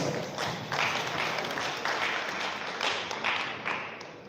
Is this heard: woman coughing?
no